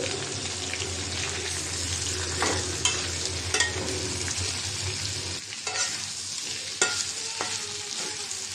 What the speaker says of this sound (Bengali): সব কিছুই ভাজা হয়েছে, নাড়াচাড়া দিয়ে দিব এখন